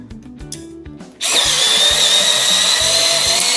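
A Parkside Rapidfire 2.2 cordless screwdriver starts up abruptly and drives a screw, a steady close motor whine running continuously after a brief stretch of quieter rhythmic background.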